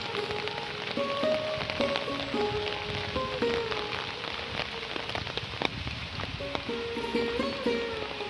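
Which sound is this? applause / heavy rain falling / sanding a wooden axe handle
heavy rain falling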